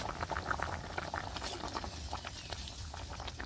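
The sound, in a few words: water boiling in a pot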